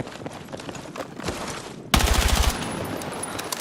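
Rapid automatic gunfire in the shooter game Battlefield 6, a loud burst of close shots followed by further scattered firing.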